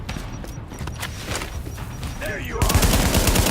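Gunfire in the video game Tom Clancy's The Division crackles as dense, continuous bursts under shouted voices, growing louder and heavier in the final second.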